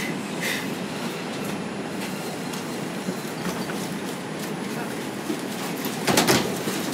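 A New York City subway 5 express train, an R142, rumbles steadily along the tracks bound for Brooklyn, a continuous loud roar with a brief rise in clatter near the end.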